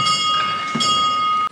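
A church bell rung inside a castle interior, one strong metallic strike with a long sustained ringing tone and a second softer hit midway, resonating loudly in an enclosed stone space before cutting off abruptly.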